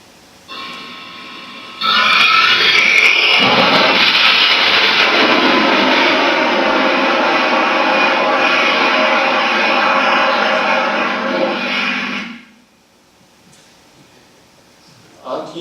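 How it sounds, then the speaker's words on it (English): A small rocket motor fires at launch, a sudden loud roaring blast that holds steady for about ten seconds and then cuts off, leaving faint background noise. "I'd like to show you the movie of our launch."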